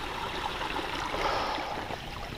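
Cool creek water flows and trickles steadily, a broad continuous rush that holds at an even level with no voices over it.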